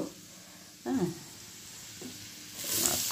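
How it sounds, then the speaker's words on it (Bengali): Chopped capsicum and green chilli tipped into a hot frying pan, giving a brief sizzling burst followed by quieter crackling and a rising hiss of frying near the end, with no talk. "এরপর আমি ক্যাপসিকাম যে কুচিয়ে রেখেছিলাম, সেই ক্যাপসিকাম আর কাঁচা লঙ্কাটা আমি দেব"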